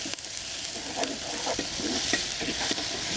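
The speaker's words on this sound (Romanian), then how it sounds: "Vom lăsa ceapa lăcălit câteva minute." Onion sautés in oil in a cast-iron pot for spinach with rice, with a steady moderate sizzle and soft stirring scrapes heard close up.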